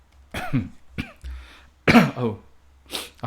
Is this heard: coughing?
yes